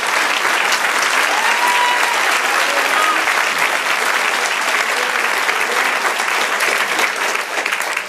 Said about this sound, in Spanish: Denle un aplauso, Señor